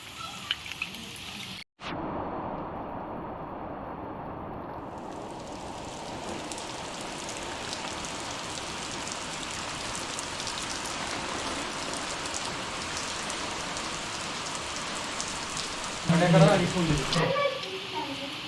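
Steady, heavy rain hisses throughout at a village primary school in Keleshwar, Maharashtra, broken by a brief gap near the start and swelling louder just before the end.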